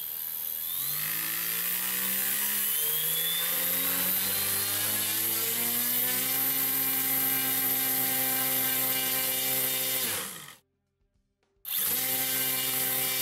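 A Tarot 680 Pro hexacopter motor spins up during an amp-draw test, a loud whining hum climbing steadily in pitch, cutting out abruptly for about a second, then resuming.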